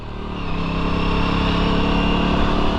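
Aprilia RS457 parallel-twin sport motorcycle ridden hard in sports mode on a closed mountain road, its engine droning steadily and loudly at high revs, building slightly in the first half-second and then holding a sustained note.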